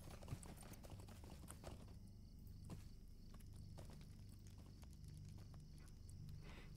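Horse hooves walk steadily in the fantasy video game LOTRO, a quiet, even clip-clop that repeats over a faint background.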